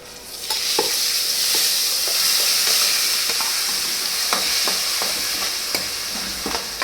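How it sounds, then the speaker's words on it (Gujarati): Cumin seeds and asafoetida sizzle loudly in hot oil as a tempering for a green corn chevdo, a steady bright crackling hiss with scattered stirring clicks throughout, no talking. "એ બધું નાખી અને પછી જો આનો વઘાર કરવાનો છે"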